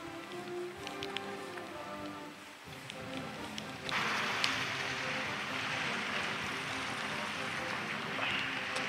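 Steady rain falls along the Wales Coastal Path near the Cardiff barrage bridge, a continuous close hiss that grows louder partway through, with scattered drips and patters.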